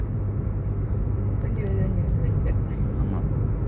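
A car driving along an empty road near Namakkal, heard from inside as a steady low engine and road rumble running under a conversation.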